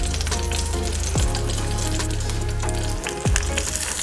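Salmon fries skin-side down in a cast iron pan, a loud, close, steady sizzle with crackles and pops throughout, plus a low hum that cuts out near the end.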